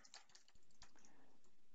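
Keystrokes on a computer keyboard as a command is typed, a handful of quick, light clicks close by in a quiet room, with no talking.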